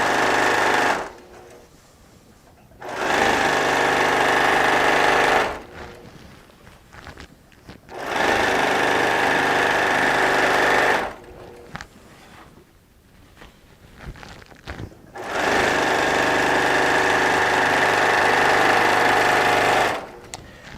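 A sewing machine stitches a quilt top in three long runs of steady whirring, each lasting a few seconds and separated by short pauses with quieter handling noise.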